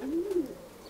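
A racing pigeon coos once, close and clear, in a single low rolling call with no other sounds.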